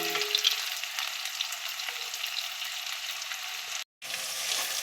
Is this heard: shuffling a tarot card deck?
no